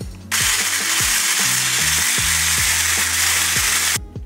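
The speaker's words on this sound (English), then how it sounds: "So we're gonna start whisking these into soft peaks" Egg whites are whipped toward soft peaks for fluffy pancakes by a loud, close motorized whirr that runs steadily with a rhythmic rattling pulse, then cuts off at the end. No voices are heard.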